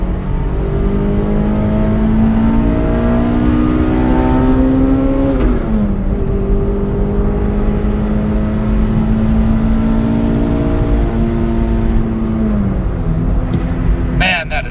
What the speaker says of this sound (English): I prefer to do is let it build revs. So I'm going to start flooring it now